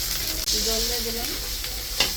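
Water poured into frying spice masala in a pan while cooking aloo dum, a loud steady sizzle with stirring scrapes, bubbling evenly and close up without speech.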